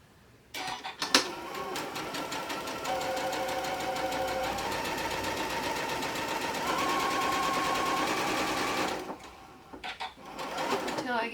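A sewing machine stitches a blue strip across the top of a quilt piece for a summer getaway quilt, a steady close whir lasting several seconds with brief handling noise before and after.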